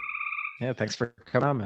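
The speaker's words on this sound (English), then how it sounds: "I brought my friends, the tree frogs." Tree frogs outdoors give a steady ringing trill in the background, then a voice talks over it as the calls fade beneath his speech.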